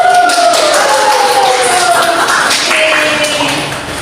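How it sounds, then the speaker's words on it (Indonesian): Loud, close clapping from a classroom of students during an Indonesian-language microteaching lesson, a dense burst of hands lasting about four seconds before tapering off, with voices faintly mixed in. "Beri tepuk tangan."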